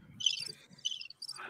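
Crickets chirp from a podcast soundboard, a few faint, quick bursts of high chirping separated by short gaps.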